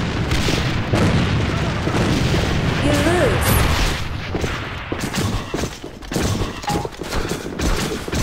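Grenade blasts and heavy gunfire from the shooter game AVA roll on in a dense, continuous barrage of booms and rapid shots, loud and close, with a player shouting over the din.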